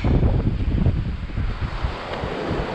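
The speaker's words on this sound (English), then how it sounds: "A little bit windy, more windy than I would like it to be" Wind gusts steadily across a beach at St George during an evening of fishing and camping, a broad continuous rush with a low rumble of buffeting against the microphone and no speech.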